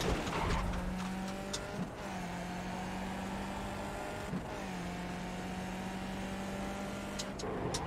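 Race car engine from the iRacing simulator, a steady sustained drone while driving a track on worn, slippery tires, with a couple of brief pitch dips as it shifts or lifts, constant and moderately loud throughout.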